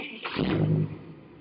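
A restored 1963 Cadillac Coupe De Ville engine cranking and catching, a short burst that swells and then settles into a lower, steady idle, close and fairly quiet.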